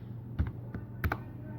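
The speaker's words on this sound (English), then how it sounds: "So I'm typing" A few scattered keystrokes on a computer keyboard, tapped quietly at an uneven pace while a command is entered to open a Django project in Visual Studio Code.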